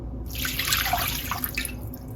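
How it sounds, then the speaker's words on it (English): Cold water poured from a cup into a large bowl with sweetened condensed milk for banana pudding, a brief, close splashing pour lasting about two seconds with no talking. "1 cup of cold water"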